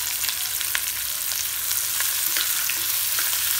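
Onions with salt fry in a pan, giving a close, steady sizzle with scattered crackles and pops throughout and no talking.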